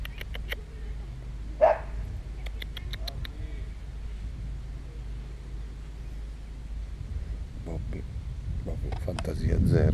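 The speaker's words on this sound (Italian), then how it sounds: "Zitto canide." A dog gives one sharp bark early on, followed by a few faint, brief yaps amid indoor background noise and murmuring voices.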